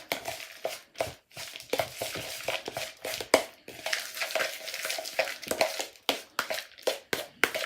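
Veal tartare seasoned with salt and pepper is stirred in a bowl with mimolette, giving a run of close, moist scraping and tapping strokes in an uneven rhythm, without any talk.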